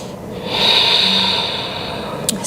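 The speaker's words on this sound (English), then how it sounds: "Breathing with me here." A deep, slow breath during a yoga flow, a long airy exhale that swells and fades close by, followed by a short sharp sniff.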